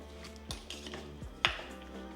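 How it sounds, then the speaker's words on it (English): Strawberry jam mixture with lemon juice being stirred in a pot on a stove over medium-low heat, a spoon scraping and clinking against the pot in three short, distinct knocks. "we'll give it a little stir"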